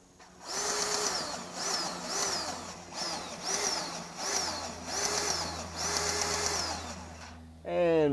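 A Makita XPG01 cordless grease gun runs at its lowest speed in repeated motor bursts of about half a second each, close and fairly loud, with a faint steady hum underneath and a short higher whir at the end.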